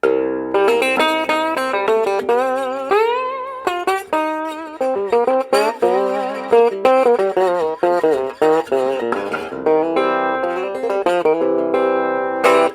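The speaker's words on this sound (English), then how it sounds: "it doesn't have the full low end and real acoustic volume that a true resonator guitar does" A resonator guitar played unplugged, thin and twangy, with quick plucked notes and slides in a lively, uneven rhythm, close and moderately loud.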